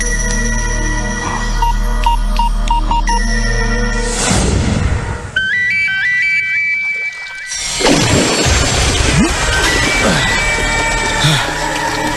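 A phone ringtone of short stepped electronic notes rises partway through a dramatic police-film scene, heavily layered with music and sound effects.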